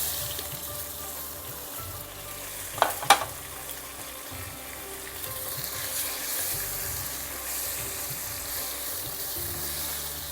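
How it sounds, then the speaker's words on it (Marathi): Thinly sliced onion rings hit hot oil seasoned with asafoetida for a homestyle brinjal bhaji, raising a steady, close sizzle with a brief clatter of utensils early on. "त्याच्यावरती आपण घालूया हा पातळ कापलेला कांदा गोल गोल कापलेला"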